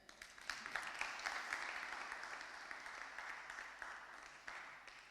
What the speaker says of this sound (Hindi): हम ज़ोरदार तालियों में उनको वेलकम करते हैं।